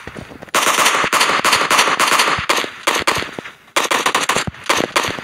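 Rapid automatic gunfire from a PUBG match, loud sustained bursts of machine-gun fire with brief pauses between volleys, close and dominant with no voices.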